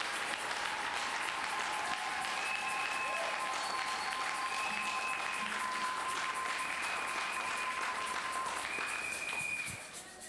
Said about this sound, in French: You see the hand you applaud.